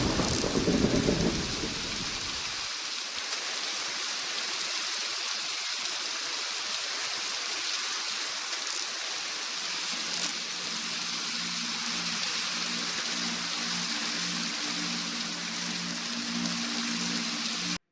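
Steady rain hisses throughout in Minecraft, opening with a deep rumble of thunder; a faint low hum joins later, with no voices.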